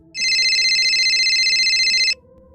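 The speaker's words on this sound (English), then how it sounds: "About an hour later, the phone on the counter rang." A telephone on a shop counter rings, one continuous loud electronic trilling burst of about two seconds over a quiet background.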